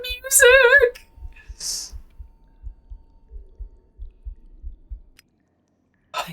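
A slow, rhythmic heartbeat thumps through the horror adventure game The Excavation of Hob's Barrow, a series of low, muffled beats that follow a short burst of speech and fade into silence.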